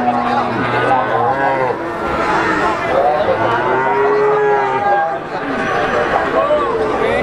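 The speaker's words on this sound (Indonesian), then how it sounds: "Masih di Pasar Sapi Ngawi Jawa Timur." Many cattle, including Simmental, Limousin and Brahman calves, moo over and over at a cow market in Ngawi, East Java. Low, drawn-out calls overlap on a constant crowd hubbub with people talking nearby.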